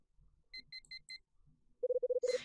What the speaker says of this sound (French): la supportable sonnerie de mon réveil ne l'entend pas de cette oreille